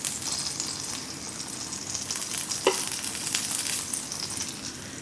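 Birria tacos filled with cheese and meat fry in oil in a pan, with a steady close sizzle and crackle that holds throughout and a brief clink partway.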